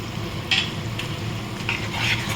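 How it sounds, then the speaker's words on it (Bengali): A spice mix of green chilli, cumin and coriander sautéing in a pan, with a steady close sizzle and a few soft stirring scrapes breaking through at intervals. "মশলাটা আমি কিছুক্ষণ কষিয়ে নেব।"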